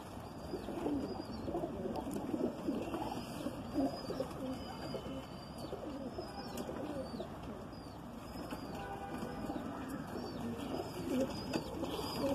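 Madrasi pigeons coo steadily and close by in a loft, their low rolling calls overlapping throughout, with occasional wing flutters and faint chirps in the background.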